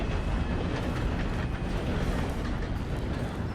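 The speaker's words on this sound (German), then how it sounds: "Sobald der Zug durch ist." A train rumbles past in the game Red Dead Redemption 2, a dense, steady roar of wheels and carriages filling the whole moment, loud and close with no pauses.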